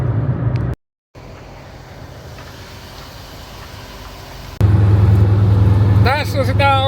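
An old car with short gearing and a top speed of about 70 drones steadily while driving, the engine getting noticeably louder partway through, under continuous talking.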